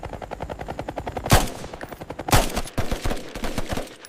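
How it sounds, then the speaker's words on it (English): Rifle fire aimed at a helicopter cockpit in a 1968 combat scene: a rapid automatic burst of closely spaced shots, punctuated by two louder, sharper cracks, over a rhythmic rotor-like thumping. "A burst of rifle fire raced upward toward the cockpit."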